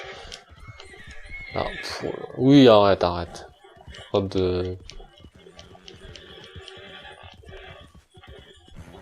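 Horse in the video game Red Dead Redemption 2 gives a loud whinny followed by a second shorter neigh, with soft clip-clop and someone talking quietly around it.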